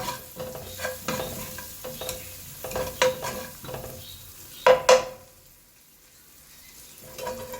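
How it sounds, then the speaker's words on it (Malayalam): Garlic and onions frying in hot oil in a pan, with a faint steady sizzle under repeated stirring scrapes, a couple of louder clanks near the middle, then a quieter stretch before stirring resumes. "കുറച്ച് വെളുത്തുള്ളി ഇട്ടു. എണ്ണ നല്ല ചൂടുള്ളതുകൊണ്ട് വെളുത്തുള്ളിൻ്റെ പച്ചച്ചവാന്ന് പൊയ്ക്കോളൂ."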